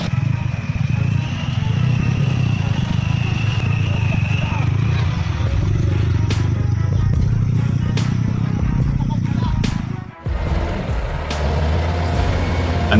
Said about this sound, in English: An old Soviet motorbike, stained with time and dust, was dragging its heavy, rough wooden trunks on the bumpy dirt road.